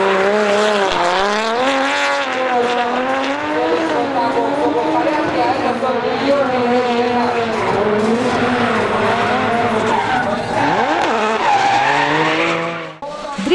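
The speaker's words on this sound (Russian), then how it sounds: "Моторы ревели и заставляли машины мчаться в контролируемом заносе на высокой скорости" Drift cars with engines of 500 horsepower and more slide sideways at speeds up to 150 km/h in a drifting competition, their engines roaring loud and steady throughout, with tire squeal and shifting revs.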